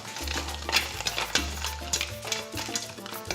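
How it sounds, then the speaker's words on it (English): Tomatoes and red lobster shells are stirred in a pot for lobster bisque, giving steady scraping and sloshing strokes at close range under a low, constant hum. "Some nice red tomatoes in there with nice red lobster shells. There we go. And stir it up."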